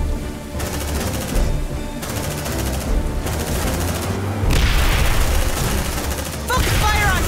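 Rapid bursts of gunfire and explosions from the sci-fi squad tactics game Aliens: Dark Descent, loud and sustained, with repeated volleys against a dense battle backdrop.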